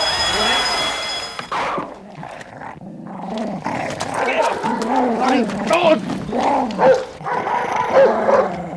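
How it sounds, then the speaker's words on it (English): A dog growls and barks in bursts, close by, while people talk over it. "get this dog off me"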